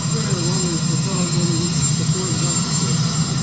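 A helicopter's steady rotor and engine drone fills the scene, loud and continuous with a low pulsing roar and a high whine, without a clear break.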